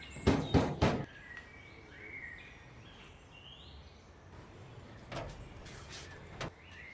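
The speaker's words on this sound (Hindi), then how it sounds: "ए जाओ देखो, कोई दरवाजा खटखट आ रहा है।" Knocking on a household door, a quick burst of three or four loud raps at the start, followed by fainter taps later against a quiet room background.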